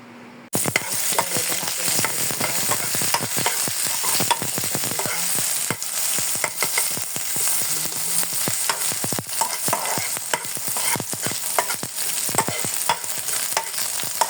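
Onion, garlic and tomato sauté with smoked fish in a hot pan, giving a loud, continuous sizzle broken by frequent scraping stirs close up, with no one speaking.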